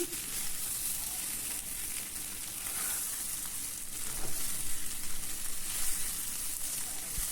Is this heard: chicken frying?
yes